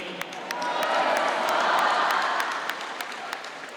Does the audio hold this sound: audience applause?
yes